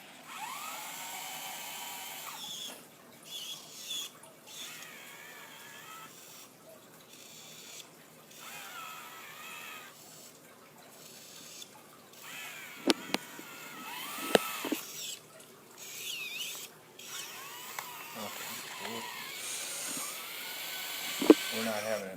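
A small rover, FELiX, built on a Raspberry Pi and Arduino, drives around with a thin whining motor hum that rises and falls in bursts, along with clicks and knocks as it moves, and faint voices nearby.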